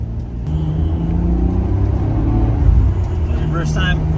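A Nissan R33 GTR pulling hard on its first acceleration run, a loud steady engine rumble and whir from inside the car, with people talking over it.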